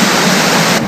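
A waterfall in Loyalsock State Forest, Pennsylvania, roars with a loud, steady broadband rush that stays constant for the whole moment and then eases slightly at the end.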